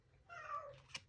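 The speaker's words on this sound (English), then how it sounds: "that was my cat" A domestic cat gives a single meow, close and fairly quiet, lasting under a second, followed by a brief faint sound against a quiet room background.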